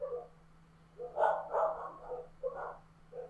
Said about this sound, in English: there's a dog barking outside, which is making my friend's dog bark